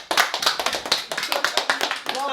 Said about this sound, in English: We're clapping ourselves.